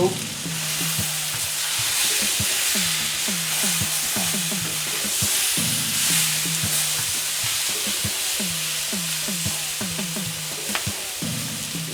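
Onions and peppers frying in a pan, a steady close sizzle with crackling pops throughout and no talk.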